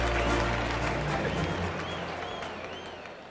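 An audience at a reading summit applauds award winners, a broad wash of clapping that starts full and gradually thins out and fades over a few seconds.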